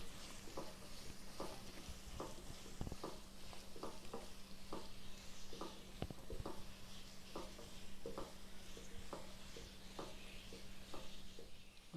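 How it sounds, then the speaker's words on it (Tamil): Chopped chillies and onions frying in a pan for egg thokku are stirred with a spatula, giving a steady close sizzle broken by regular scraping taps against the pan, with no talking. "போட்டுவிட்டு நல்லா கொஞ்சம் கிண்டி விட்டுறணும்."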